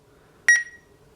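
Electronic beep from a microwave button pressed in the Microwave it HD iPad app: one short, bright double-pulse tone with a brief fading tail, alone against quiet background.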